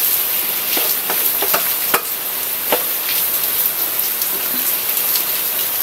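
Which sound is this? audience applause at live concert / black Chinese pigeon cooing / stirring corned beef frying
stirring corned beef frying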